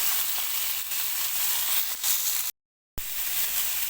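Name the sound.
chicken pieces sizzling while stir-frying in a pan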